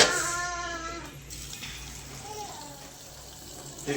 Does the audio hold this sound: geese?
no